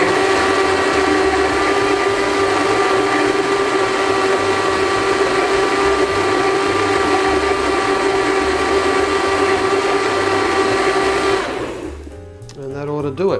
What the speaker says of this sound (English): the setting that I use on this blender is the whole juice setting